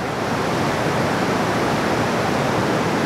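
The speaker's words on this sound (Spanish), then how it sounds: "Esta es la pequeña cascada, la caída de agua, la catarata, el rápido" A small waterfall and rapids behind a house in Nanaimo roar steadily, a dense, even hiss of rushing water that stays loud and unbroken throughout, with no voices.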